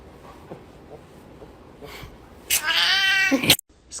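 A cat reacting to a fake knife lets out a loud, drawn-out yowling meow near the end, after a quiet stretch with faint rustles, then stops abruptly.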